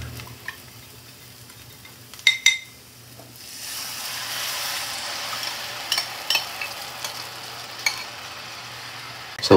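Garlic and the main ingredient for palabok sizzle in a hot pan while a utensil stirs and scrapes; brief clatters first, then a steady frying hiss with intermittent stirring knocks, close and with no talking.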